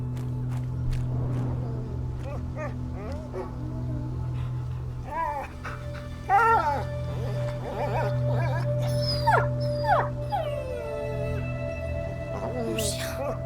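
A dog in the video game A Plague Tale: Innocence whimpers and yips in short, high, wavering cries over a steady low hum, with faint French voices mixed in.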